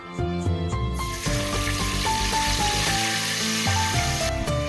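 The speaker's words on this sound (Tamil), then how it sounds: "இது கொஞ்சம் சூடானதும் நம்ம இஞ்சி பூண்டு பேஸ்ட் போட்டுக்கலாம்" A sudden loud sizzle as ginger garlic paste hits hot oil, a steady hissing fry that continues under background music.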